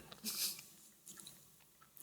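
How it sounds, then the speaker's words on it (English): Close, crisp crunching as someone bites and chews a spiced Dutch gingerbread-style cookie, with a loud burst of crunches early on and then quieter, sparse chewing sounds. "Are you still chewing?"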